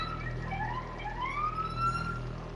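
Chicago police car siren wailing in rising and falling sweeps, steady and fairly loud, heard at a street scene over a low background hum with no talking.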